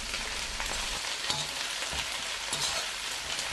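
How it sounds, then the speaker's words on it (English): Chinese cabbage stir-fries in a wok with garlic, ginger and chilies over high heat, a dense, loud, constant sizzle with faint stirring scrapes and no talking. "We add the cabbage and stir so that all the cabbage is mixed with oil and spices."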